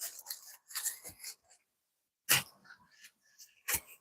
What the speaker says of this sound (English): Dog was making weird noises behind me.